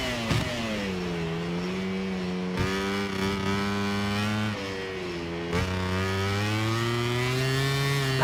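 Motorcycle engine in Ride 6 revving hard down a downhill section, a loud, close, whirring high-pitched drone that rises and dips with two sharp gear-change drops, the throttle held open throughout.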